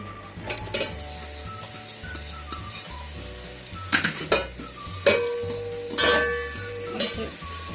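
Two onions sizzle in hot oil in a pot for rice pulao, a steady close frying hiss broken by clinks and scrapes of a spoon stirring against the metal pan.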